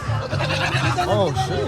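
Goats bleat at a farm, with a couple of short wavering calls rising over steady crowd chatter and talking nearby.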